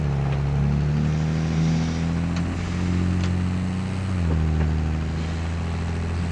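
A game tractor in Farming Simulator 2023 drones steadily at low pitch, its engine note shifting slightly as it pulls a long cart, close and continuous with faint clicks and knocks over the hum.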